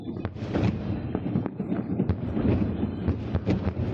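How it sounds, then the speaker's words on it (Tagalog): Fireworks at a wedding celebration burst continuously, with sharp cracks and booming thuds piling on one another through a dense, rumbling display heard from a distance among buildings. "Wow, fireworks nga unya na pangalan nila, Joy."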